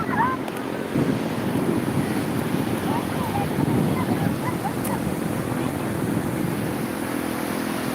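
Big sea waves rolling and crashing along a shore, a steady surf roar mixed with strong wind buffeting the microphone, continuous and fairly loud, with faint voices in the background.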